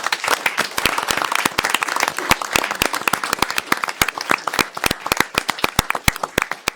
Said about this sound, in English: can we just get one more round of applause for our department?